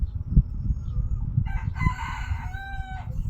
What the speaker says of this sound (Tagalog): Wala ni tugtugaok na sad ang manok anak.